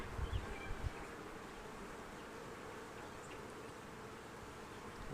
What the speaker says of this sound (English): You can see the bees are still nice and calm.